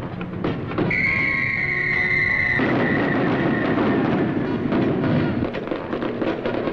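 Fireworks burst over the River Thames in London, a dense run of booms, thuds and crackles, loud and continuous, with a bright whistling tone early on and no voices.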